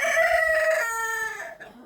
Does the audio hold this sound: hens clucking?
yes